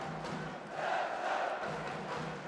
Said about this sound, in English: you can hear the crowd here getting behind ZHAKYPOV